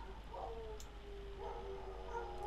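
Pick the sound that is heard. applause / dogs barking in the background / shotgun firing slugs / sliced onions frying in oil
dogs barking in the background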